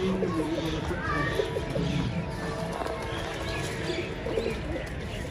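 Pigeons coo softly in a rooftop flock, low murmuring calls repeating under a voice and a steady outdoor background.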